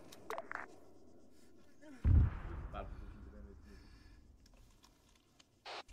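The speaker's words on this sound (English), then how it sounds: "Explosion was an AA missile on presumably one of our planes." A single deep, booming AA missile explosion bursts out amid scattered radio-style chatter in an Arma Antistasi multiplayer game, followed by a fading rumble.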